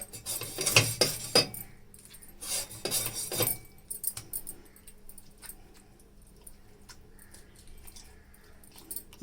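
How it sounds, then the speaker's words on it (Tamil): A knife saws and scrapes through the head of a shark fish being cleaned, rough rasping strokes close up in short bursts during the first few seconds, then quieter scattered scraping and taps. "இப்போ தலை பீஸை கட் பண்ணிடலாம்."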